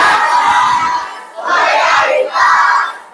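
A class of schoolchildren shouting their cheer chant in unison, three loud group bursts in quick succession, close and energetic.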